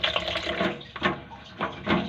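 Running tap water splashing while something is rinsed before opening a coconut, an uneven gushing with a few stronger surges, close and fairly quiet, with no talking.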